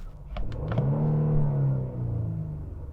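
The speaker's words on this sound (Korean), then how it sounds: "이 차는 380마력이라는 엄청난 괴력을 발휘하는 V6 트윈 터보 엔진입니다." A Genesis GV80 Coupe with a 380-horsepower V6 twin-turbo engine revs in sport mode, a close, deep rumbling surge that swells and holds for a couple of seconds after a few brief clicks.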